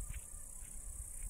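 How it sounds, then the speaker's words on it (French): Grasshoppers in green vegetation give a faint, steady high-pitched chirring, soft and continuous throughout. "peut-être es-tu attiré par le son des sauterelles"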